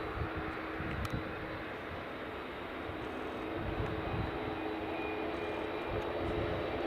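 A Dassault Falcon business jet at Edinburgh Airport gives off a steady, moderately distant engine roar that holds even for about seven seconds, with no talk over it.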